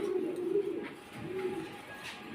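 Shoukin pigeons at a pigeon farm give soft, low throaty coos in a couple of rolling phrases, close by and alone with no talking.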